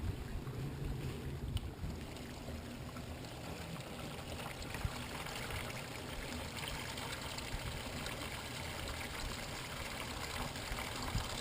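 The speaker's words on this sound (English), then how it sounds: "I'm going to turn on the hose to demonstrate the formation of a hydrocyclone vortex." Water from a garden hose pours into a hydrocyclone vortex, a steady, fairly quiet rushing trickle and swirl that runs on without a break, with no voices.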